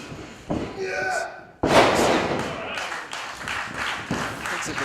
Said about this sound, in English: just slamming the back of Ryan Zane into the mat